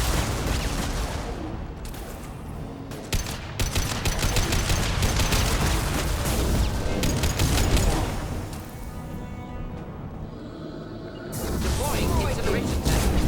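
Sustained weapon fire in Mass Effect 2 on Insanity difficulty, dense crackling shots and booms running almost continuously, loud and close, with brief lulls and combat voices mixed in.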